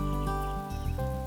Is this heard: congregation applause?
no